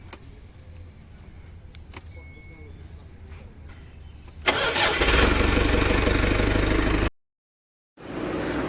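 A 3-ton forklift's engine cranks and catches, then settles into a loud, steady rumble close by. Before the start there is quieter background noise with light clicks, and the engine is later cut off abruptly.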